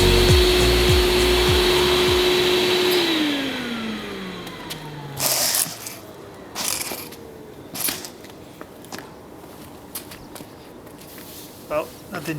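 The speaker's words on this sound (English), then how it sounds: "While I have the vacuum cleaner here, I'm going to try and clean up the bucket seats a bit." A steady vacuum cleaner motor drones while cleaning car bucket seats, then winds down in pitch and fades, followed by scattered knocks, bumps and brief rustling bursts.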